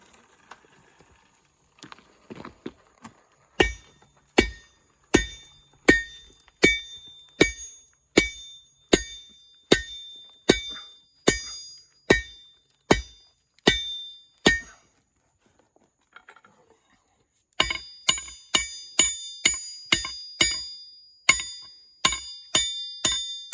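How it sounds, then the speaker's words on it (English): A hammer upsetting hot steel on an anvil while forging a bowl carver's adze, a steady series of loud ringing blows with a brief pause and then a faster run of strikes, close with no talking. "Let's go ahead and do some upsetting."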